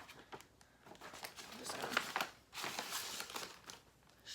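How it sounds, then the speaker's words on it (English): A plastic bag holding a cross-stitch project crinkles and rustles in close, quiet bursts as the work is stuffed back inside, with no talking. "I'm just gonna shove this back in the bag."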